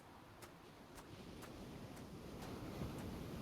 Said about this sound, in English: I never grew accustomed to the air up here. It gusts senselessly whichever way it pleases.